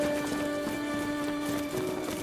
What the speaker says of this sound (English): I thought I heard a horse.